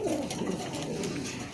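A pair of new pigeons, the male yellow-bodied and the female red-bodied, both moulting, give a low continuous coo close by, the throaty murmur rolling on without pause.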